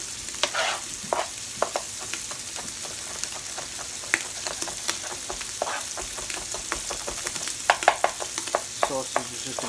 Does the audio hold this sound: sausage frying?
yes